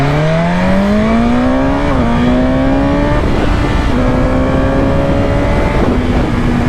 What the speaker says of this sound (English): I just hit the limiter and it just scared the heck out of me